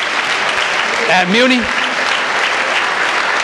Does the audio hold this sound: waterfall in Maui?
no